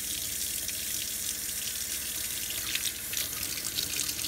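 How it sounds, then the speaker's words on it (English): Hot water runs steadily from an RV faucet into a sink, giving a continuous close hiss and splash, fairly quiet, with a slight surge toward the end and no talking. "I'm gonna turn on the hot water."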